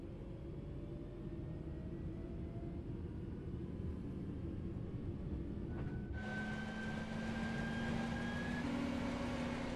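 A train in Train Sim World 4 runs at full throttle, a steady low rumble with rising engine tones partway through and no talk.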